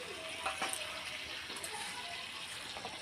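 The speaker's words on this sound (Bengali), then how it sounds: "মশলার মধ্যে ভালো করে তেল ছেড়ে দিয়েছে এবার আমি দিয়ে দেব জল" Water is poured into a curry of small bata pond fish with spices cooking in a pot on a village clay stove, producing a continuous splashing, gurgling pour that lasts a few seconds at moderate loudness.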